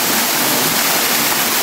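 Los Pilares waterfall in El Salvador, a seasonal cascade, rushing loudly and close by as a dense, constant roar of falling water with no voices.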